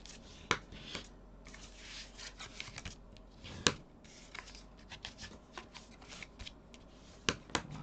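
Scissors snip paper for a scrapbooking storage project, giving short crisp cuts and rustling sheets close by. Sharp clicks are scattered through a quiet background.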